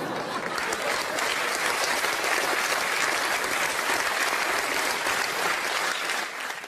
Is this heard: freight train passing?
no